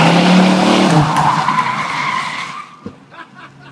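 An Oldsmobile Cutlass with a powerful engine roaring loud and close as its tires skid and squeal for a few seconds, then fading away, leaving faint background noise.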